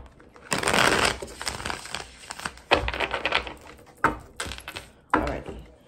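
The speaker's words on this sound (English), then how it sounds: "One more good shuffle." Tarot cards being shuffled by hand, several loud, close bursts of riffling and slapping card noise separated by short pauses, with no talk during the shuffle.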